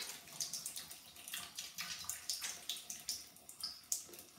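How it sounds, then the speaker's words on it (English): Water is added to a face scrub at a sink, producing soft, close splashing and dripping in irregular bursts, fairly faint. "Let me add a little water so you guys can see the foaming agent."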